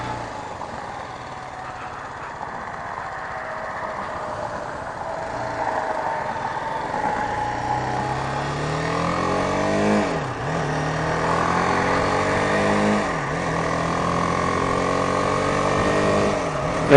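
A 2018 BMW G310R motorcycle engine drones steadily while riding, its pitch rising and falling with revs and dipping sharply at a couple of gear changes.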